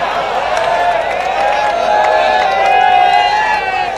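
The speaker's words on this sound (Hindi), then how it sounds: "वो ताली बजा रहा है" An audience claps and cheers at a live Hindi poetry recital (kavi sammelan) in Mandsaur, with a steady loud wash of crowd applause and voices lasting throughout.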